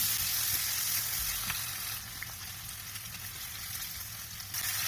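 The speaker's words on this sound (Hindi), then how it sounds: "अब हम इसे अच्छे से भून लेंगे।" Onion-tomato masala for a mixed vegetable dish fries in a pan with a steady, fairly quiet sizzle that continues evenly throughout, with no voices.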